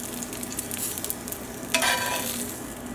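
Chicken sizzles in a hot pan just after being flipped, a steady close frying hiss that surges louder as the meat settles, with light crackles throughout.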